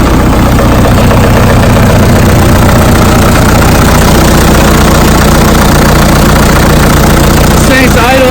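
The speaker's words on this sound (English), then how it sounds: "This thing's idling pretty good for having oil that's probably way too old in it" A Case 580CK backhoe's engine idles steadily after sitting unrun for a long time on very old oil, a loud, close, continuous low rumble with a rough mechanical knock running throughout.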